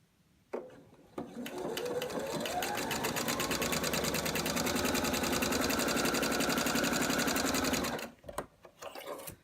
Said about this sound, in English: I'm going to sew down this one length, and then I'm going to sew right off the edge of the fabric without cutting the thread